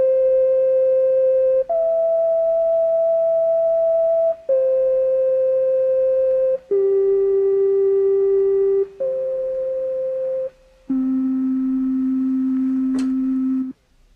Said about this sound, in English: The sound of a sine wave is absolutely pure and flute-like.